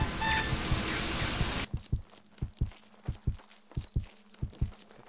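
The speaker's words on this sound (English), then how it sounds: "Now I can hear my heartbeat, that's horrible." Heartbeat effect in the shooter video game Loadout, a steady run of paired low thumps following a loud burst of gunfire-like noise, repeating evenly at close range with no talk.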